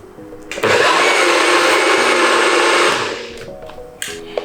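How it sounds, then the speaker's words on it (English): A blender whirs loudly for about two and a half seconds while blending a creamy sauce, starting abruptly and winding down, with a few clicks and knocks before and after. "I'm going to add another half a cup now that it's all blended, and blend that again"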